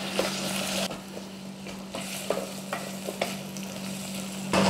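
Minced ginger and garlic stir-frying in a pan for a spicy udon katsu curry, a steady sizzle with a spoon scraping and stirring through it at intervals, close and moderately loud, with no talking.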